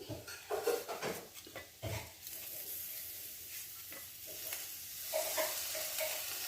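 Diced tomatoes drop into onions frying for a beef curry, thudding and clattering against the pan before a bright steady sizzle builds, with spoon stirring scrapes, close by and with no talk.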